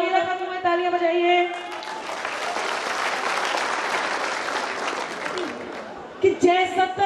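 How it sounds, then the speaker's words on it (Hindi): Audience at a Hindi comic poetry recital breaks into sustained applause, a dense steady clapping that swells and then fades, with a voice speaking before and after it. "तालियां बजाइए"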